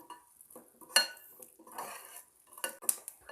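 Melon seeds (magaj) toasting in ghee over a low flame are stirred with a metal spoon, producing soft rattling scrapes and a few sharp clinks against the pan with only a faint sizzle beneath.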